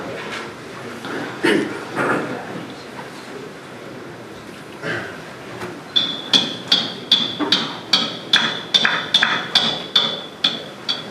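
A hammer strikes caulking irons into the seams of a wooden yacht hull: scattered taps at first, then a steady run of sharp, ringing blows at a regular beat, close by and loud.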